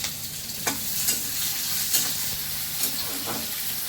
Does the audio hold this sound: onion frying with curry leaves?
yes